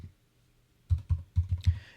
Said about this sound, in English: you can just type exiftool